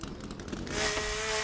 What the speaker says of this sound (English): Chainsaw will be epic.